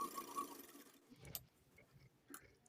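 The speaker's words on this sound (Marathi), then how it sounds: "इथे माझी शिलाई देऊन होत आहे" A sewing machine stitches a blouse piece, a faint, rapid mechanical whirr for about a second before trailing off into quiet with a couple of small clicks.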